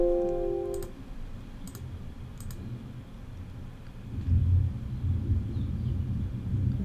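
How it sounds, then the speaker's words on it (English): Summer thunderstorm with steady rain: a dense, continuous wash of falling rain over low rolling thunder that swells louder in the second half, with a few brief clicks near the start. "summer thunder and rain."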